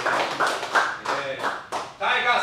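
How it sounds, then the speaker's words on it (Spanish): An audience in a volleyball setting claps for the Bolivian national team in several quick bursts, with voices mixed in among the hand claps. "un aplauso para la selección de Bolivia"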